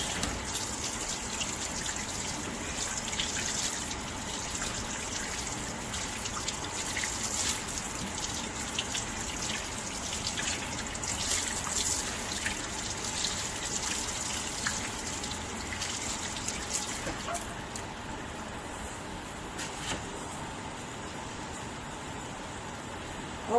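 Water runs steadily over an alloy sample surface being rinsed at a lab sink, a continuous, even gush of moderate loudness that carries on alone for the whole stretch.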